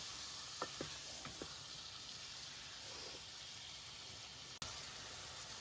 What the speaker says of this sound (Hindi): चिकन को जी तब तक उसमें फ्राई करते हैं जब तक इसका कलर नहीं चेंज हो जाता।